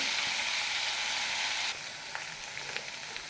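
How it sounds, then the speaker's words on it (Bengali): Potatoes frying to a reddish brown make a steady close sizzle that drops slightly in level partway through, followed by a few sharp crackling pops. "লাল লাল করে ভেজে নেবো।"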